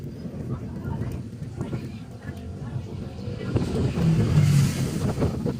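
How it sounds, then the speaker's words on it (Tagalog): Strong wind roars and buffets the microphone in a steady low rumble during a flood in Malolos, Philippines, swelling louder toward the end, with rushing floodwater noise underneath. "Lakas ang hangin."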